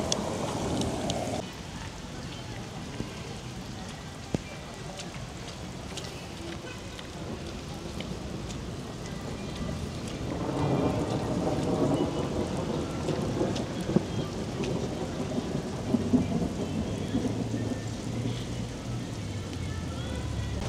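Steady, dense rain hisses throughout in Georgia, close and continuous, with a brief sharp knock and a swell of heavier downpour partway through.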